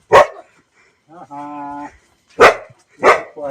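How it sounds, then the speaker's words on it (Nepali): A dog at the gate of a Back to Nature jungle resort near Pokhara barks three times, sharp and close, with a brief whine in between the barks. "कुकुर"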